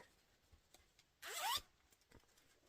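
A single quick zip of the zipper on a lined yarn pouch, close and crisp, lasting about a third of a second amid quiet rustling.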